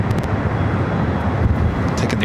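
A KLM airliner at LAX, a loud, steady broadband engine roar close by with wind buffeting the microphone and no clear talking.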